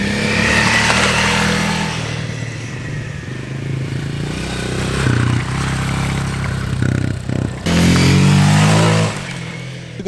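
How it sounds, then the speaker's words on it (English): Motorcycle out riding, revving hard and spinning its tires, a loud engine roar that rises and surges in bursts with a strong final rev near the end. "Look at that. He spun his tires."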